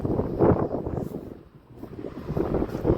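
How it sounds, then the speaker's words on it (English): Gusty wind buffeting the microphone, rising and falling in rough low rumbles, with a brief lull in the middle. "today it is very windy"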